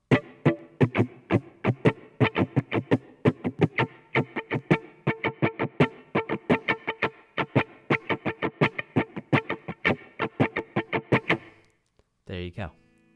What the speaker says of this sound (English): That is the sound of a muted guitar.